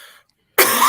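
After a short near-silence, a man gives a single harsh, close cough from a lingering post-COVID illness, a sudden loud burst that trails into rough breathy noise.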